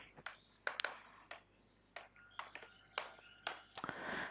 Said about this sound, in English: type in this command.